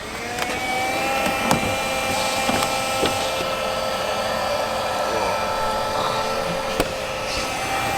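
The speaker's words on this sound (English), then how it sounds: "get my vacuum, turn it on" A vacuum cleaner runs steadily inside a small stealth micro camper, a continuous whining drone with a few faint knocks and bumps along the way.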